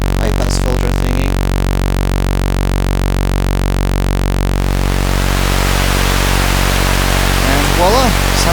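Loud white noise that shifts partway through to a thinner, brighter hiss once the low end is filtered away, with brief synth chirps at the edges.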